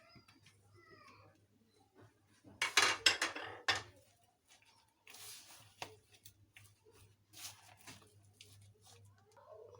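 A kebab mixture of black chickpeas, gram flour and cornflour is mixed in a bowl, giving scattered bursts of quiet scraping and clinking of utensil against dish, separated by near-silent pauses.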